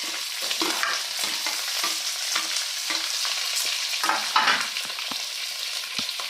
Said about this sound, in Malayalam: ഉരുളക്കിഴങ്ങ്, ഇതെല്ലാം കൂടെ നമുക്ക് ഒന്നിച്ചിട്ട് നന്നായിട്ട് വേവിച്ചെടുക്കാം.